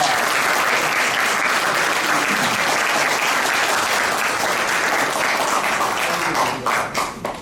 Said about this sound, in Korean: 축하의 박수 크게 쳐주시기 바랍니다